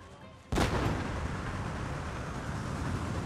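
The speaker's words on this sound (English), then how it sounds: "More like a mortar shell, actually." A mortar shell bursts in the Fall of the Samurai battle game, one sudden heavy blast followed by a sustained roar of battlefield noise and rumbling.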